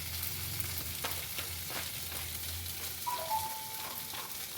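Ginger-garlic paste with coriander powder frying in a pan, a steady soft sizzle with occasional stirring scrapes, faint and continuous, no voices.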